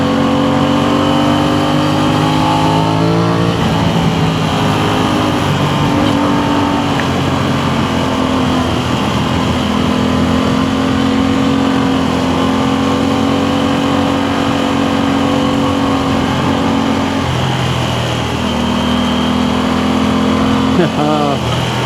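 Aprilia Tuono 660 motorcycle engine running steadily while riding, a loud continuous drone with shifting harmonic tones, revs dipping briefly near the end and wind noise throughout.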